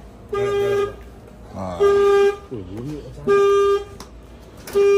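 A Proton Persona car horn honks three times in spaced, sustained toots, loud and close, with a voice speaking briefly between the blasts.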